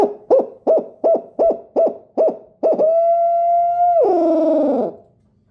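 A hooting call blown on a wooden Brute hoot owl caller: a run of short, evenly spaced hoots, then one long drawn-out hoot that breaks into a descending wavering trail.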